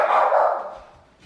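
A single short dog bark or yip close by, excited, near a pork belly burnt ends cook on a Pit Boss Austin XL pellet smoker, fading quickly to quiet.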